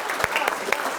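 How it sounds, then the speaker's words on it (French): A studio audience applauds the first guest of a radio show, steady clapping from a small crowd throughout the second, with a few louder individual claps standing out. "Alain Leboeuf, applaudissez notre premier invité"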